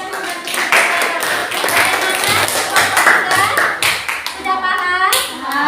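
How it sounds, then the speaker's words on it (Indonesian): A classroom group claps during a teacher-training lesson, with brisk, fairly close hand claps forming a short round of applause while voices and chatter mix in. "Tepuk tangan dulu untuk yang sudah mengerti."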